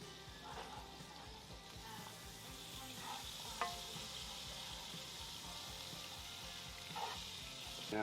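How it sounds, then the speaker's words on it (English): Butter and olive oil sizzle in a warm pan, a steady close frying hiss with faint pops now and then, quiet and even throughout. "So we've got a nice warm pan there. We're going to put in butter and"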